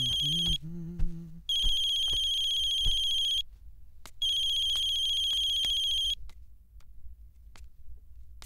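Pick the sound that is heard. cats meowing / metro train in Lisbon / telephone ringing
telephone ringing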